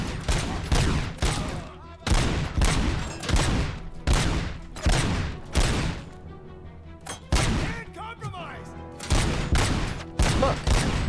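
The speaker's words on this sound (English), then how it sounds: "despite the fact that I'm clearly shooting him." Gunfire in the RoboCop: Rogue City video game, rapid loud bursts of shots repeating in quick volleys with short pauses between, close and dominant throughout.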